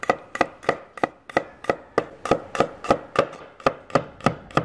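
Steady, rapid knife strokes thinly slicing garlic on a cutting board, about three per second, close and crisp with no talking.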